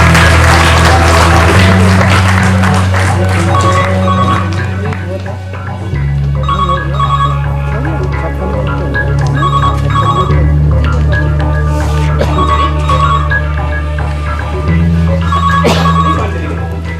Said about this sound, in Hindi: अब ये फोन बज रहा।